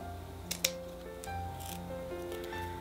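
Scissors snipping along the toes of a paper turkey cut-out for a flowering mum holiday centerpiece, giving two sharp close snips followed by quieter soft cutting against a low steady background hum.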